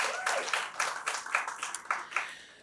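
Scattered hand clapping from a small audience at a code and art festival keynote, uneven individual claps rising and falling over a few seconds with no voices.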